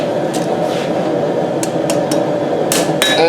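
Hammer blows ring out on a steel knife blade at an anvil while the blade is refined near the ricasso: a few sharp, bright metallic strikes spaced irregularly over a steady background hum.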